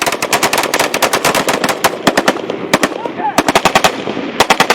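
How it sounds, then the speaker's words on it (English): Machine gun covering fire during a battle in Mali: rapid, loud bursts of automatic gunfire with short gaps between strings of shots, several weapons overlapping close by. "the Malian soldiers lay down a wall of covering fire"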